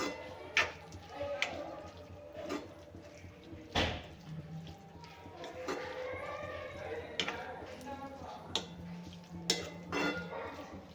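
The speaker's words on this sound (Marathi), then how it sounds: "परत याला मिक्स करून घेऊया" Mustard greens sabzi with soaked masoor dal being mixed in a pan: a spoon scrapes and clinks against the metal in irregular knocks and taps, with speech heard between the stirring sounds.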